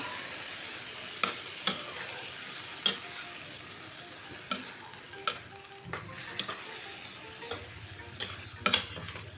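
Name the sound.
stirring mung bean stew in a frying pan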